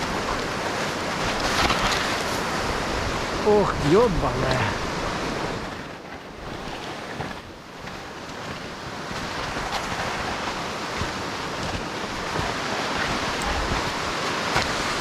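Strong wind roaring steadily across an exposed mountain slope at Rosa Khutor near the Sulimovsky stream, loud and continuous, dipping briefly midway, with a voice swearing over it.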